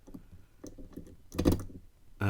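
Pins of a DOM IX5 dimple lock click quietly during picking, with a few soft, separate taps and a brief cluster of sharper clicks near the middle.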